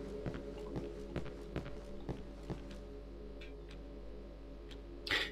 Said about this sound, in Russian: Где-то вот тут я слышу, ходят часы.